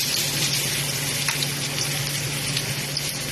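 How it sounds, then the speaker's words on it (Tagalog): Garlic sautés in reused oil in a pan, a dense, loud, steady sizzle with bright crackling, heard up close with no voices. "Igisa na natin ang bawang."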